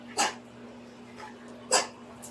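Indoors at a house, a dog gives two short, sharp barks about a second and a half apart, with a fainter yelp between them, close by over a steady electrical hum.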